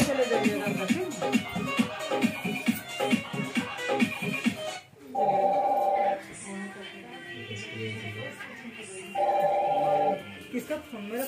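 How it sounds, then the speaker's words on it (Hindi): Voices talk, then a phone ringtone plays two loud electronic bursts with a short gap between them, while quieter talk continues around the rings. "मेरा फोन बज रहा था।"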